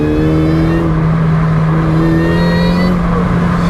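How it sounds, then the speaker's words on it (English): A supercharged Chevy Cobalt SS accelerates hard with a loud, close, continuous engine drone and supercharger whine that climbs steadily without a break. "This thing pulls real hard,"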